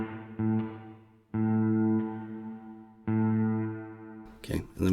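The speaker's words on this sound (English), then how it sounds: "It's like a spring reverb." Sustained electric guitar notes ring out through a Donner Yellow Fall spring reverb pedal, three held chords each decaying with a washy tail, ending in a burst of noisy rattle.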